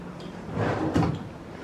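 A wooden bureau drawer in an Antigua resort room slides along its runners with a soft rumbling scrape and a muffled thump, one brief close-range movement.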